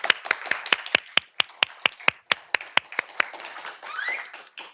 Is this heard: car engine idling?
no